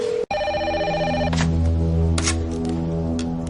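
A telephone rings with a steady electronic trill after a sharp click, then fades under a low droning musical score and a few soft thuds in a television drama scene.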